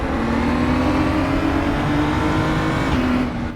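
Race car engine in the Nürburgring-style RaceRoom sim race, a loud sustained high-revving drone holding steady pitch with a brief shift near the end, alongside another car, no talk.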